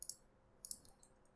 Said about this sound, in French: je fais espace au clavier à chaque fois